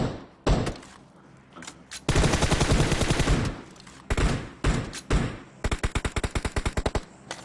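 PUBG Mobile game gunfire: a single loud shot opens, then long rapid bursts of automatic fire and several separate volleys ring out close and loud, with short gaps between them.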